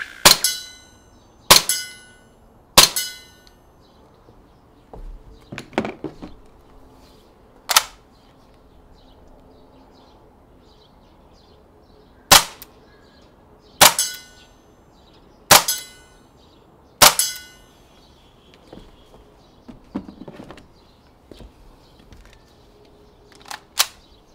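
M17 BB pistol firing, a run of sharp, close snapping shots with uneven gaps, some in quick pairs, separated by quiet stretches with faint handling clicks and no talking.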